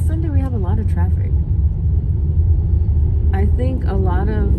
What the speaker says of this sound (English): See, this Sunday we have a lot of traffic.